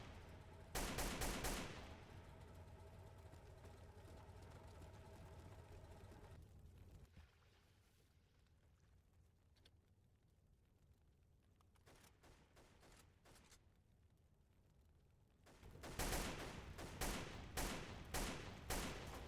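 Heavy-recoil rifle fire in the PC shooter Delta Force Xtreme 2: a loud rapid burst at the start, then quieter scattered shots under a steady hum, and a sustained string of sharp, evenly spaced automatic shots at the end.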